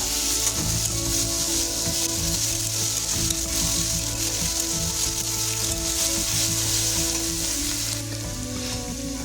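Chopped onions sizzling loudly in a wok, a dense continuous crackle of frying oil with faint scraping beneath, steady and close throughout, with no one talking.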